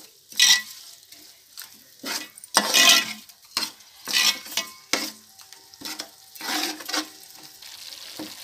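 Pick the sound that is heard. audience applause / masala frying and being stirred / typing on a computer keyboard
masala frying and being stirred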